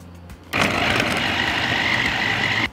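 An electric food chopper minces chunks of onion, starting abruptly with a loud, steady motor whir that runs evenly for about two seconds and then cuts off sharply, with no talking.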